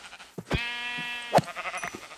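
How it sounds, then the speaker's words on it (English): A blocky Minecraft sheep lets out one drawn-out bleat, close and clear, followed by a short sharp squeal and several soft game knocks and clicks. "Die, you stupid sheep."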